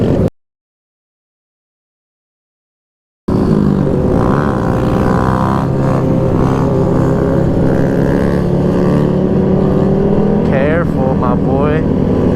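Several motorcycles rev hard during clutch-ups on a Chicago bikelife group ride, a loud continuous engine roar after a brief silence, with voices and shouts mixed in.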